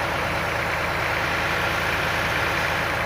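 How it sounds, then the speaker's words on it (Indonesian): A water pump engine at a farm water source runs in a steady, loud, unbroken drone, close by and alone. "Ini mesinnya sedikit berisik karena seiring dengan suara mesin"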